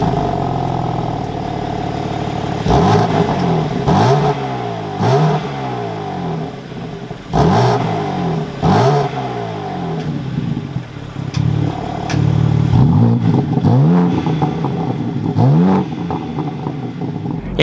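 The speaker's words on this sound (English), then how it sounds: "let's fire this back up and take a listen to how the M4 sounds" A 2025 BMW M4 Competition xDrive engine fires up and settles into a deep idle, then revs sharply again and again in repeated blips that drop back, loud and close with no talk.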